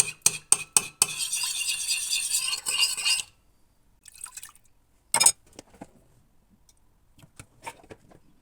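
A whisk clinks rapidly against a bowl, dissolving tomato paste in water, followed by scattered quieter taps and a brief splash, no talking.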